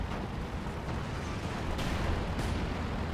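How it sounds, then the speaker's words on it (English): A bomb strikes a KV-2 tank in the Company of Heroes 2 battlefield game, a dense, continuous roar of explosions and artillery rumble with a couple of sharper blasts near the end, loud and sustained throughout. "KV-2 taking the bomb like a champ."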